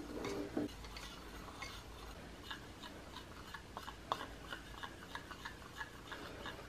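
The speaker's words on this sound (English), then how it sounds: "now I'm gonna go ahead and start mixing" TAP Plastics platinum silicone stirred in a mixing cup, giving faint, steady scraping and ticking taps in an irregular rhythm, with a brief louder knock near the start and no talking.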